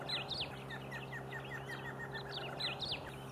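Barred antshrike calling in Brazilian woodland at Chapada dos Guimaraes, with faint, repeated chirps and short whistled notes over a low steady background hum.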